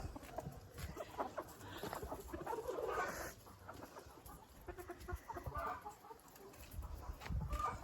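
Hens cluck softly in the distance amid a faint outdoor hiss, with scattered low murmurs; the birds stay quiet and diffuse rather than close.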